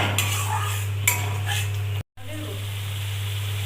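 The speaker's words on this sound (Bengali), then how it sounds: "এবার দিয়ে দেব আবারও ভালো করে মশলা কষিয়ে নেব" Spice masala with whipped yogurt being sautéed in a pan for a village-style katla fish kalia: loud metal scraping and clattering stirs over a faint sizzle and a steady low hum, broken by a short dropout.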